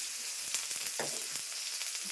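Onion frying with black cumin and green chillies in hot oil, a soft continuous sizzle with a few light crackles and scrapes of stirring, no voices.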